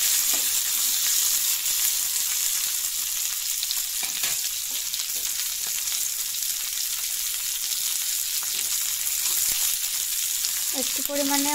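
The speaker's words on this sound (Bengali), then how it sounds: "প্রথমে কালি জিরা দিয়ে দেব, দিয়ে তারপর এগুলা গরম তেলের মধ্যে ছাড়বো।" Cut pieces with nigella seeds sizzle loudly in hot oil in a wok, a close, continuous crackling hiss that holds steady throughout, with a few brief clatters near the end.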